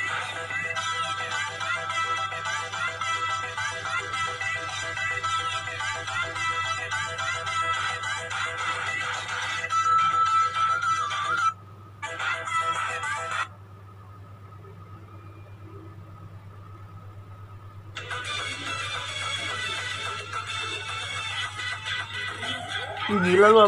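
A mobile phone blares a DJ remix ringtone, loud and continuous with a driving beat, cutting out briefly twice before resuming, over a low steady hum, with people talking.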